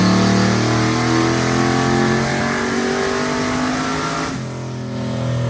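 A turbocharged car engine revs on a dyno during a partial pull with no boost controller. It gives a loud, sustained rising drone with strong harmonics, then drops off near the end as the throttle eases. There is no speech.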